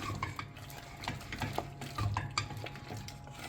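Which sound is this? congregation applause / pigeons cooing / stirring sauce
stirring sauce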